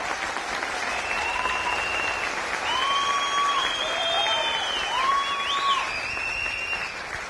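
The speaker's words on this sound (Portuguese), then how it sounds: "Por isso, eu peço as palmas para o Vitor Paulo." Sustained audience applause fills a Brazilian PRB party national-convention hall after a speech at the party president's re-election, a steady dense wash of clapping with faint voices and tonal whistles or calls rising over it throughout.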